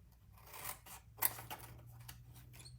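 Scissors slice cardstock pieces away while shaping a treat box lid, with a few crisp close snips and light paper rubbing, no one speaking.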